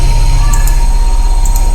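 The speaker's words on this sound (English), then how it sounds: "Sorry if you can hear my washing machine in the background." A washing machine runs in a room as a constant, loud mechanical hum with a low drone and a faint whine on top, steady throughout.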